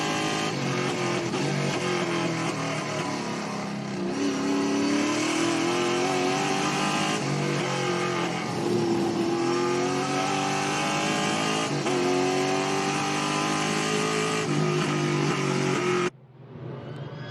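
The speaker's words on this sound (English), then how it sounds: "Great sounds, aren't they, from the in-car, Josh Thomas." Loud touring race car engine at Winton Motor Raceway heard from inside the cockpit, revving high and shifting pitch continuously, with a sudden drop near the end.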